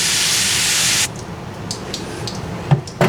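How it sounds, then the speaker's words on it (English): A foaming glass cleaner sprays onto glass in one loud, close hiss lasting about a second, followed by quiet with a few faint taps and clicks. "It's a foaming spray."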